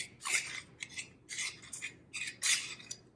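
A spoon scraping thick molasses from a container, four rough, raspy strokes in a slow rhythm, close and fairly quiet with short pauses between.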